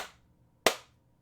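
A single sharp hand clap rings out once, close and crisp, after a brief faint trail of an earlier sound, then decays quickly into quiet.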